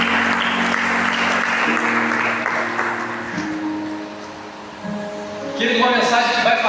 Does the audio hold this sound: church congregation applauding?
yes